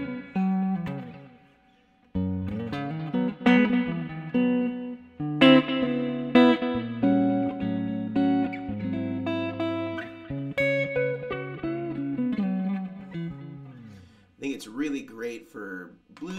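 A clean electric guitar plays a series of chords and single notes with gaps between phrases; no voice is heard.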